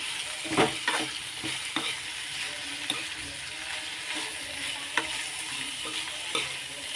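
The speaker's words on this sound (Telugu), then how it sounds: "ఇలా మనం ఫ్రై చేసుకుంటే ఒక ఐదు నిమిషాలు ఉడికినాయి కదా కొంచెం ఫ్రై అయితే బాగుంటుంది" Vegetables frying and being stirred in a pan during a rainy-season home cooking session: steady close sizzle with repeated sharp scrapes and clacks of the spoon against the pan, no voices.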